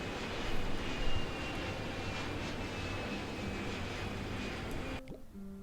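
An airplane in Poly Bridge 2 passes overhead with a steady, broad jet-engine roar. It holds at an even level for several seconds, then cuts off abruptly near the end.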